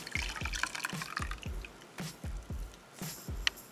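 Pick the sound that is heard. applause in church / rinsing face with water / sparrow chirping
rinsing face with water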